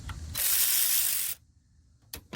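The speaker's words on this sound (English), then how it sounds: "I used my reducer, 3/8 to 1/4 inch, and my cordless ratchet." A cordless ratchet with a 3/8 to 1/4 inch reducer whirs loudly for about a second while unbolting ignition coils on a 2002 Chevy Impala 3.4 V6, followed by a short quiet gap and a brief final burst.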